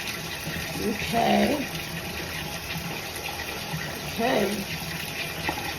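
Water runs steadily from a tap and is poured over an 18-inch curly wig during detangling, a continuous gushing splash with a woman's brief spoken remarks breaking in twice.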